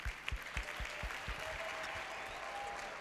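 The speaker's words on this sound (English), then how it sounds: "we're going to give her a round of applause because we really are looking forward to hearing her keynote address" Audience at a youth week event in the Vaal, South Africa, applauding to welcome a keynote speaker on stage; scattered distinct claps at first build into a steady moderate round of applause.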